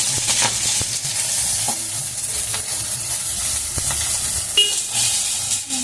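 Soybeans and potatoes fry in a pan with a steady, close sizzle and hiss, broken by occasional stirring clinks.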